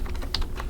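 A single computer keyboard key, the Enter key, is struck once during spreadsheet chart formatting, giving a short, quiet click among a few soft keystrokes with no talking.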